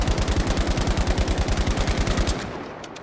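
Rapid automatic gunfire from a scoped weapon in the video game Battlefield 5, a steady, dense stream of shots for over two seconds, loud and close, then cutting off into a fading tail.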